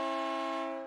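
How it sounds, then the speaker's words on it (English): A train horn at a crossing sounds one sustained, harmonically rich blast that fades slightly toward the end, clear and alone. "I always enjoy the train sound. And the honk, actually."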